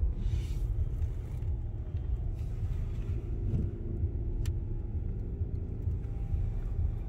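A car drives along Liberty Avenue in Queens, New York, at Saturday lunchtime, giving a steady low engine and road rumble heard from inside, with faint street noise and no talking.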